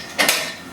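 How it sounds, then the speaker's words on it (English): A gym cable machine pulley is shifted into position, giving a short metallic clank with a second knock right after, close and fairly loud, then fading. "Move that pulley system"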